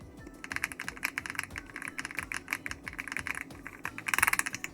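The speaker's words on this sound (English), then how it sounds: "It's the Ala F99 keyboard, and it was advertised as the creamiest keyboard ever" Typing on an Ala F99 full-size mechanical keyboard at a desk, a fast steady run of soft, creamy keystrokes heard close and alone, with a denser flurry near the end.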